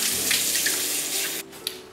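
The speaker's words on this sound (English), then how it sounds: "And then I rinse it all off with water." Running tap water splashing steadily into a sink while a face is rinsed during a skincare routine, a close, continuous wash of water that cuts off abruptly near the end, followed by a brief splash.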